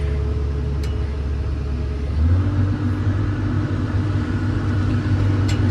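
A Komatsu PC200LC-8 excavator fitted with a hydraulic thumb, its diesel engine throttling up from a low idle rumble to a steadier, stronger drone about halfway through, loud and close throughout.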